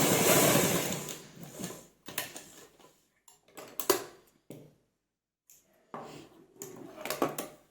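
A sewing machine stitches a half collar onto a kameez neckline in short bursts, with a longer run at the start and then several brief stitching spurts separated by near-silent pauses, close up and without talk.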